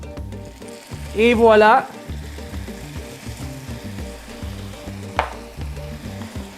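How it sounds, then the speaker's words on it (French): Risotto rice with Italian sausage and asparagus sizzles steadily in a hot pan as white wine goes in to deglaze, a dense crackling hiss running throughout, with a short spoken remark near the start. "Donc, on va déglacer avec du vin blanc."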